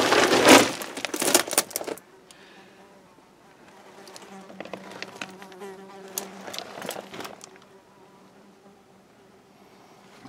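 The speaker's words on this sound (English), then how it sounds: "I hear bees." Bees buzz close by outdoors in bursts, loudest at the start and again midway, with quieter stretches of faint droning between; no one speaks.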